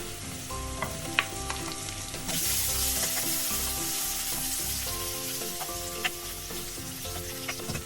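Ginger fries in a pan with garlic and onion for escabeche, a continuous dense sizzle with stirring scrapes, growing louder partway through, steady and close with no voices.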